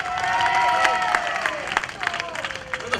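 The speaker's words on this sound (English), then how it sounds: "Give him a nice round of applause." Scattered clapping from an audience at a singing competition with a few whoops, fading toward the end while a tonal sound lingers underneath.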